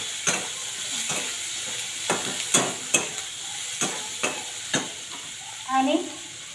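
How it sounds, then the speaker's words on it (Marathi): Chopped onion frying in a pan with roasted peanuts, a steady sizzle under a series of sharp spatula scrapes and stirs, with a brief bubbling flare near the end. "कांदा देखील चांगल्या पद्धतीने भाजून घ्यावा."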